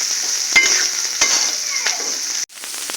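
Red amaranth greens fry in a pan with a bright continuous sizzle, broken by a few sharp stirring clinks, then a sudden brief cut before the sizzle resumes.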